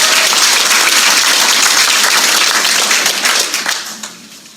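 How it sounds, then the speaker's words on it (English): An audience at a downtown planning presentation claps loudly for a muralist's preschool artwork, a dense, even wash of many hands that holds steady before thinning and trailing off over the final second. "Everybody clap for Julia"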